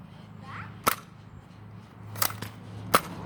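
A Nerf blaster firing three darts at a time during an Easter Nerf war, heard as three sharp, close snapping pops spaced apart over low background noise.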